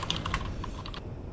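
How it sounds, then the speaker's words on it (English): Rapid, furious typing on a computer keyboard, a dense close-up clatter of keystrokes with no pauses and no talking. "Furious typing."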